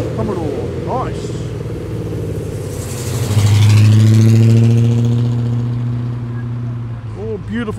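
A Holden SS Commodore muscle car pulls away from a big car meet at Tempe, its engine building from a steady mid rumble into a loud, swelling roar around the middle before easing off, with crowd voices audible near the end.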